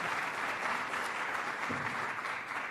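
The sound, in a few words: audience applause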